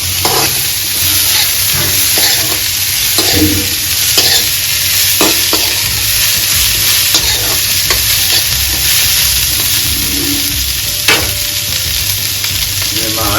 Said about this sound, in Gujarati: અને પાછું રાઈ જીરુંમાં જ વઘારવાનું